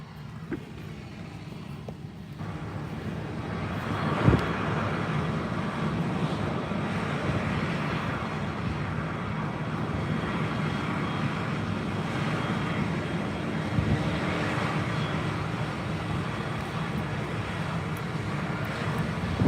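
A jet engine runs steadily at a regional airport, a broad, continuous roar heard from nearby through a car window, with low wind rumble and no talking.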